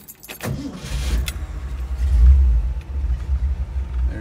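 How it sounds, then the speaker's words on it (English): A 1958 custom Ford Ranchero's 351 Windsor V8 cranks with a few sharp clicks, then catches and settles into a deep, throaty rumble that swells and holds steady. "There she is, folks."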